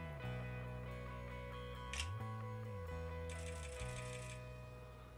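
A Huawei P8 smartphone camera fires its shutter with a sharp click, followed by a longer burst of rapid clicking, all over a steady electronic hum and with no talking.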